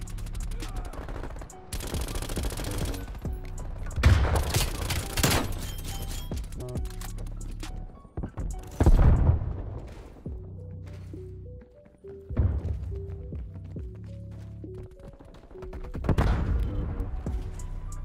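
Gunfire in the shooter game Call of Duty Cold War, repeated bursts of automatic shots and heavy thumps spread across the stretch, mid-loud, with game effects between volleys.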